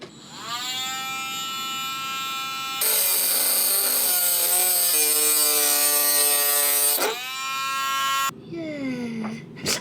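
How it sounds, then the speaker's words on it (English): A small Dremel rotary tool removes screws during a catamaran refit, giving off a high, steady whine that changes pitch as it bites and eases off, then spins down to a brief lower-pitched whir at the end. "now I'm using a Dremel tool"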